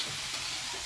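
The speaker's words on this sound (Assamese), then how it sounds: "আৰু এইপিনে এতিয়া নাৰিকল ভাজি আছে মই" Grated coconut fries in a pan for coconut laddu, giving off a short, even sizzling hiss close by with no voices.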